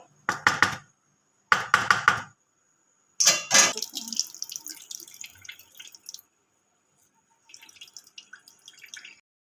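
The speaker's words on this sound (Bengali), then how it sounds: "আমি ছানাটা একটু জল ঝরতে দেবো" Rinsed chhana draining through a clean cotton cloth, with three loud bursts of splashing water early on, then a softer, scattered trickle of drips that fades and briefly returns near the end.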